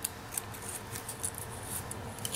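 Scissors trim the points of paper cupcake liner petals: quiet, crisp snips repeat irregularly over a faint background hiss.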